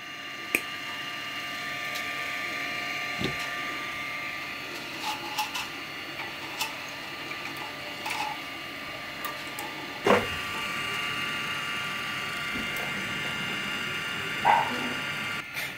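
3D printer feeding new filament through its extruder, a faint steady motor hum with occasional small clicks and ticks, close and quiet, with no speech.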